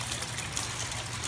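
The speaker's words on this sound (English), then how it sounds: "And here we have the system at work. We've got the water going through" Rainwater running steadily through a rain barrel diverter during a rainy day, a continuous close trickling and gushing flow with no voices.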